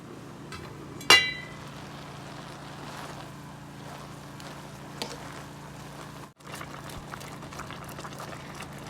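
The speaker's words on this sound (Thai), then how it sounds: "ก็จะนำไปต้ม วันนี้เราจะต้มแค่สองน้ำนะคะ" A pot of water holding dandelion leaves bubbles quietly on the stove, a faint, steady simmer with a sharp clink and a few light knocks near the start.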